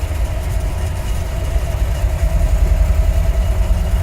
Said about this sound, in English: I love how the engine runs.